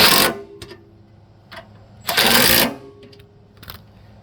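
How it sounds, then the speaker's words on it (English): Wrench ratcheting snowblower skid shoe bolts tight, a few bursts of metallic clicking and scraping separated by short pauses, close and fairly loud. "tighten these bolts back up"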